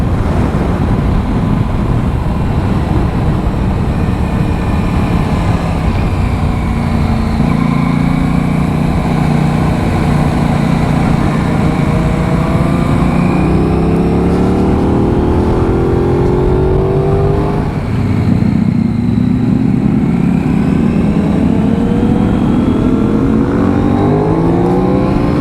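A racing motorcycle on a track engine rising and falling through gear changes as it leans into a corner and passes, loud and continuous with no voices.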